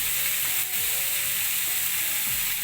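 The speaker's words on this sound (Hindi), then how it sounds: "अब हम इस मसाले में डालेंगे मलाई" Paneer masala sizzles in a pan as cream goes in, giving a steady, close frying hiss with faint scraping and no talk.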